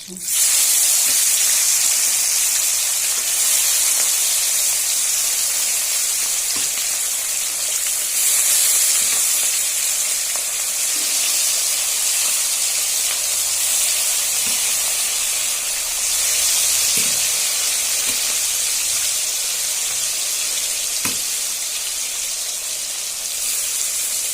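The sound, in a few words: fish frying in oil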